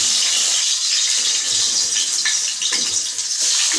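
Potato pieces frying in hot oil with cumin seeds in a home pan, giving a steady loud hiss and crackle of sizzling throughout with no talking.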